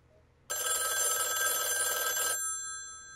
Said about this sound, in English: The rotary phone.